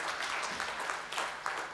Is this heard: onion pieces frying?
no